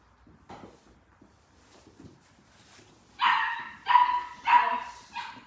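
Dogs bark at a doggy daycare: four loud, spaced barks come one after another in the second half, following a stretch of faint, quiet movement.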